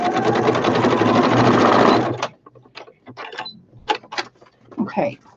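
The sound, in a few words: sewing machine sewing a straight stitch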